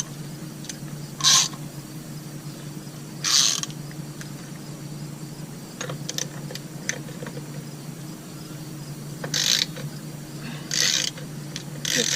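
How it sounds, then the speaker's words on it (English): Oil filter wrench on a 1/2 inch ratchet extension working the oil filter of an Onan Cummins QG 5500 RV generator, a few isolated clicks and ratcheting bursts over a steady low hum. "Oil filter wrench fits on the end of a 1/2 inch extension."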